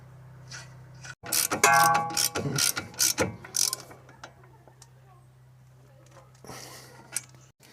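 A torque wrench tightens a shock absorber bolt on a Dacia Duster 4x4, giving close, sharp bursts of rapid ratchet clicks that come in short runs and then fade into quiet.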